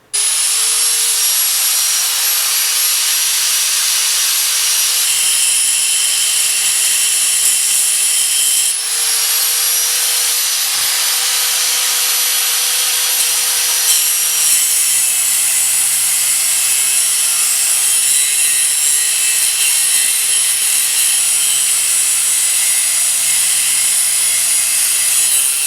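Power tool cutting through a part of a Mercury 25 hp outboard motor from a tracker boat damaged on a rock, a loud continuous high-pitched grinding that runs without pause.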